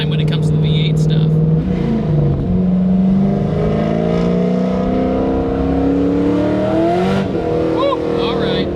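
A Corvette C5 Z06 V8 engine roars and revs hard as the car spins, its pitch rising and sliding through several sweeps, sustained and loud, with tire noise and a voice briefly heard over it.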